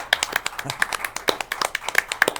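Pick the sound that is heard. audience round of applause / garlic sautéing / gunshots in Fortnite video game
audience round of applause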